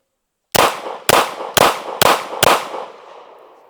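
A Glock pistol fitted with a Recover 20/20 stabilizer fires five sharp, loud shots in a quick, evenly spaced string, each crack followed by ringing echo that fades out after the last round.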